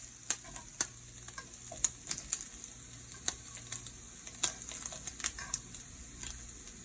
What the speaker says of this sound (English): I'm turning them on the other side so the other side could fry